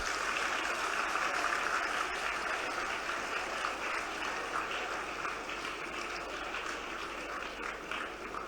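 Audience applause welcoming chief guests at the opening of the Gomti Book Festival in Lucknow, a dense sustained clapping that holds steady for the whole stretch and eases slightly toward the end, with no talking.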